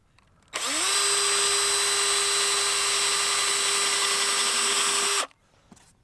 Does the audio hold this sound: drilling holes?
yes